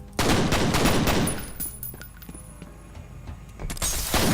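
Rapid automatic gunfire in the F.E.A.R. video game, a loud dense burst of shots at the start that thins into scattered single reports and debris, then another burst at the end.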